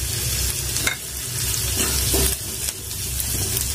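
Finely chopped medium onions frying in hot oil with cumin, a steady close sizzle with brief stirring scrapes and bursts spread across the clip.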